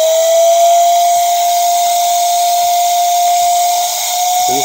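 A Zola portable electric air duster blower running at speed 2 gives a steady, loud whine over a broad rushing hiss of air. The sound is continuous and close, with a few faint clicks.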